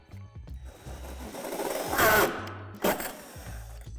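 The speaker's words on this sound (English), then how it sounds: "drill through with the provided drill bit" A drill bit bores through a plastic panel of a Lifetime 80-gallon rotating composter during assembly, with two short, loud whirring bursts around the two- and three-second marks over a quiet background.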